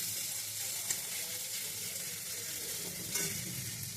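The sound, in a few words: prawns added to sizzling frying vegetable curry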